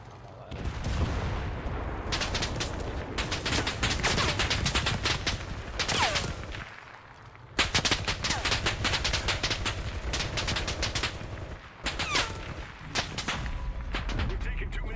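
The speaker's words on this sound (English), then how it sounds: "We have machine gun fire coming from the rear. Oh, that's friendly machine gun fire." Friendly machine gun fire rattles in long bursts during a World War II battle in the game Enlisted, heavy and continuous with brief pauses, and a voice talks intermittently over the shooting.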